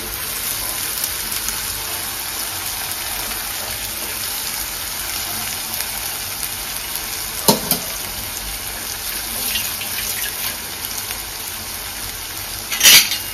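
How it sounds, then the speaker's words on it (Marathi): Tempered white rice being stir-fried in a pan, a steady broadband sizzle with scraping stir strokes and a couple of sharp clinks of the spatula against the pan, close and continuous with no talk. "तो सुद्धा परतून घेऊया आपण"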